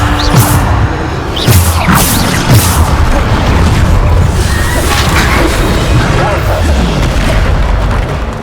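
Bombarda spell blasts in Hogwarts Legacy go off in quick succession: loud, close booms with whooshing bursts that repeat throughout and blend into a constant barrage.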